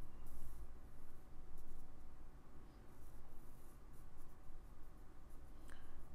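Pencil scratching and rubbing across paper during a blind contour drawing exercise, a steady soft scratchy texture running throughout at close range with no talking.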